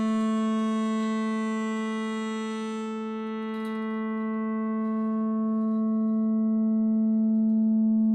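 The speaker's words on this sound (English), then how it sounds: "So you're changing a sawtooth wave into a sine wave by changing the value of the cutoff filter." Sawtooth synth tone held on one steady pitch while a low-pass cutoff sweeps down and back up, the bright upper harmonics fading away and returning, alone with no voices.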